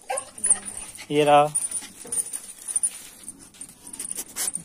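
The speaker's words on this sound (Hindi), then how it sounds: "हमारा डॉगी" A pet dog whines and yips briefly at close range, with some panting, amid household talk outdoors in a Himachal village home.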